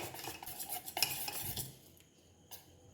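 A utensil beats thick jalebi batter in a bowl, giving rapid wet slapping and clinking strokes that are close and fairly quiet, then trail off.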